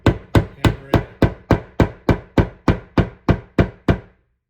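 A plug is hammered into a hole in an IKEA PAX wardrobe door during a soft-close hinge upgrade: about a dozen sharp, evenly spaced blows, loud and close, each with a short ringing decay.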